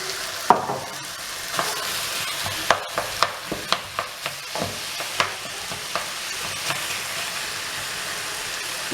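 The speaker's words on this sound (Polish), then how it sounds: "Cebulka z papryką nam się podsmaża ładnie." Chicken, onion and peppers fry together in a pan for a baked chicken pasta dish, a steady sizzle broken by repeated scraping knocks of a utensil stirring the food.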